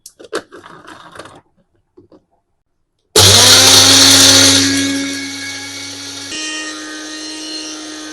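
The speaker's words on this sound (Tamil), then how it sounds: "இது நல்லா அரைச்சி எடுத்துக்கலாம்." A mixer grinder grinds homemade pav bhaji masala spices with salt. Quiet handling sounds come first, then the motor starts abruptly with a loud, high whine and rattle, and its pitch and volume drop partway through.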